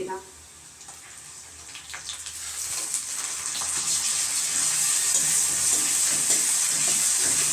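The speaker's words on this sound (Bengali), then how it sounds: "তেলটা তেতে গেছে এবারে আমি পেঁয়াজগুলো দিয়ে দেব" Hot oil starts sizzling and builds to a loud, steady hiss as onions fry, with faint scraping of stirring underneath.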